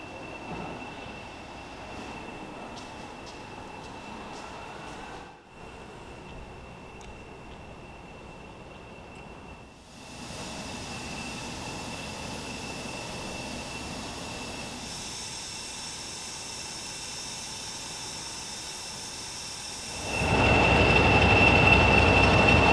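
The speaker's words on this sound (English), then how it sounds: "So this is our diesel locomotive that's hauling us up to Highley." A class 40 diesel locomotive hauls a heritage train on the Severn Valley Railway, heard from inside a carriage as a steady rumble and rail rattle with a faint tonal whine, growing louder near the end.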